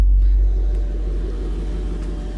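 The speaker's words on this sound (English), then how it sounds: "To raise the height, you just pop in here and push the suspension height button." A Mercedes-Benz SL55 AMG, custom-built to 700 horsepower, raises its suspension to maximum height with a steady low mechanical hum and rumble that holds evenly throughout, with no talking.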